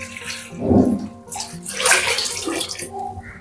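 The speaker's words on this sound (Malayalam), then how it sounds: "കൂടെ വെള്ളം ഞാൻ ഇതിലേക്ക് ചേർത്ത് കൊടുക്കുന്നുണ്ട്" Water is poured into a bronze uruli pan in two or three splashy bursts, close and fairly loud, with gurgling between pours.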